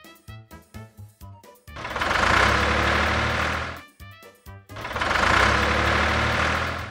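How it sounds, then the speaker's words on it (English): A tractor engine chugs in a quick run of rhythmic pulses, then swells into a sustained roar, repeating the chugging and roaring pattern twice at close range. "Tractor."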